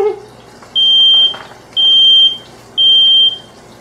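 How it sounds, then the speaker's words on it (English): Smoke alarm going off in a kitchen while a boneless New York strip steak sears, giving three loud, evenly spaced high-pitched beeps of about half a second each over a low hum of cooking. "Smoke detector went off."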